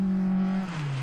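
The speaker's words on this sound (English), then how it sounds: "A little high revving Honda." Small high-revving Honda rally car on a special stage of a rally in Whangārei, New Zealand, its engine drone holding a steady pitch then dropping slightly as it nears, fairly faint and without talk.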